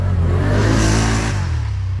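A 2022 Can-Am Outlander 570 XMR ATV in sport mode, still in engine break-in, revs up close and loud, its engine note climbing steadily for about a second and then easing back to a lower drone.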